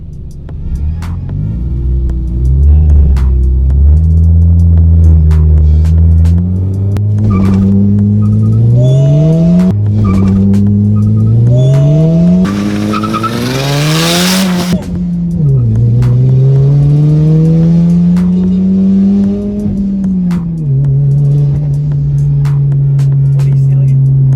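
A turbocharged Honda Jazz GK5 revs hard and accelerates through the gears on an empty straight road, loud and close from inside the car, with engine pitch climbing repeatedly, a brief whooshing burst mid-run, then settling to a steady drone.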